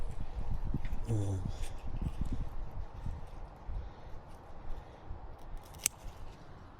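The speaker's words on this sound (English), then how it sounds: "So I'm having to use scissors, which is not ideal." Occasional scissor snips cutting through courgette stems on an allotment amid outdoor rustling, with a brief voice early on.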